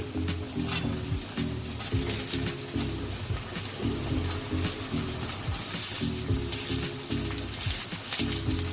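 Potatoes sizzle and crackle with onions in a hot pan while a utensil repeatedly stirs and scrapes them, the frying hiss steady underneath.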